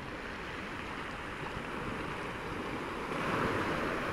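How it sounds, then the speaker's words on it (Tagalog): Strong waves crash on the rocky shore of Wong Chau Island in Sai Kung, Hong Kong, making a steady, dense surf roar mixed with wind noise that swells slightly louder near the end, with no one talking. "Lakas ng hampas ng tubig, oh."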